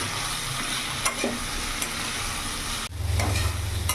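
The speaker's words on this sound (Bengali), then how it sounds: "ভালো করে নাড়াচাড়া করে নেব।" Steady sizzle of spices with cumin powder frying in a pan with scraping stirring strokes, continuous and close, growing louder near the end.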